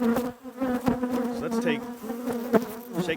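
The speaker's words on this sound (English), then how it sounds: "So let's shake these bees off, take that out." Honey bees buzz steadily on a frame pulled from a hive, a close, dense drone with shifting pitches and bursts as the insects move about.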